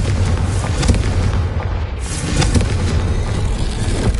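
A Confringo blasting spell explodes in Hogwarts Legacy, a loud booming blast with a dense, rumbling roar that keeps going without a break and has a few sharper cracks inside it.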